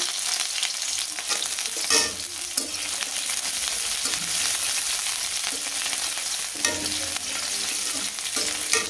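Onions and then potatoes fry in a pan of ghee, a steady close sizzle broken by the scrape and clatter of stirring at irregular intervals, with no one talking.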